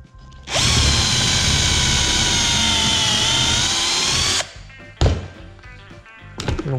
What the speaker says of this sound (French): on n'a plus qu'à percer.